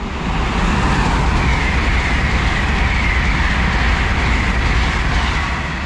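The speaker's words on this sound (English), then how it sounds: "a couple of trains arriving now" Trains arriving at a station platform on the East Coast Main Line, including an LNER Azuma and a Class 700, rumble steadily close by, a continuous loud roar of wheels and engines with a high metallic whine, no voices.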